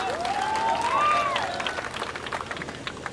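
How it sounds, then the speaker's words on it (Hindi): An audience at a live singing show for Maharana Pratap Jayanti in Muzaffarnagar applauds. Crowd clapping runs steadily throughout, with a rising-and-falling whistle or cheer cutting through early on. "एक बार और जोरदार तालियों"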